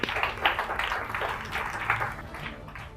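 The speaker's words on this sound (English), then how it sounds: "I think we should give them a clap" An audience gives a round of applause for Group 6 at a group assessment. The clapping is diffuse and moderately loud, a steady wash of many hands that fades a little toward the end.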